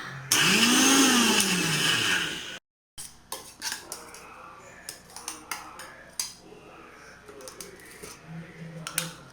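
A kitchen blender grinds carrots for carrot halwa in a loud whirring burst of about two and a half seconds. It stops abruptly and is followed by scattered clinks and knocks of utensils and dishes.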